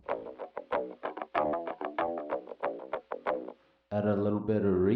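A spoken voice processed through the megaphone setting of a Roland VT-3 Vocal Transformer, thin and distorted, choppy phrases, followed by a sustained, heavily filtered tone at the end.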